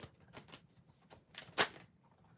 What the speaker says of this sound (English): Give me one moment to shuffle.